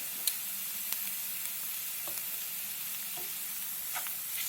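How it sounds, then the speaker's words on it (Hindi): Garlic with asafoetida and turmeric sautés in a pan for kat vada rassa, giving a continuous close-up sizzle and hiss with a few faint clicks of stirring; no voices. "1 मिनट तक भून लेंगे लहसुन की कच्ची स्मेल जाने के लिए"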